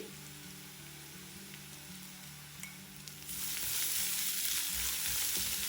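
Spices with onions sizzle in hot oil in a pan while potatoes are prepared, a steady close frying hiss that grows louder and brighter partway through, with faint background hum underneath.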